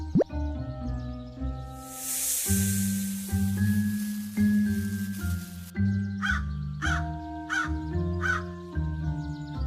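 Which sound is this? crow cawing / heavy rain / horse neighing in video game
crow cawing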